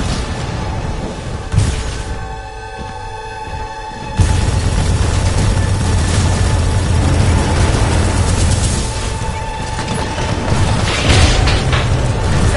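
Gunfire and explosions in the video game Titanfall 2, loud dense rumbling booms and bursts that drop briefly, then surge back and stay heavy throughout.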